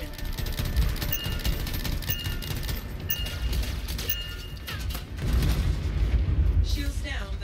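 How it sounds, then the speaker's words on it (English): Heavy detonation and rumbling blast in the sci-fi game Anthem, loud and sustained with crackling debris and a second surge of booming partway through, close and dense throughout. "I think the explosion destabilized the foundry"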